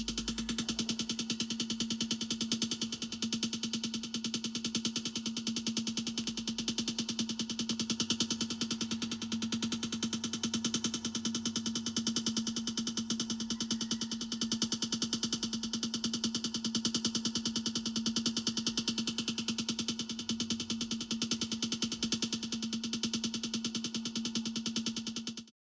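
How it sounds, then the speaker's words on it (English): A sonified spectrum of the distant galaxy UGC 7849 plays as a dense, steady synthetic drone with a strong sustained low tone and a bright, shimmering, rapidly flickering upper layer. It continues evenly for about 25 seconds and then stops abruptly. "sonification, or the translation into sound parameters of a spectra or measurements of a distant galaxy"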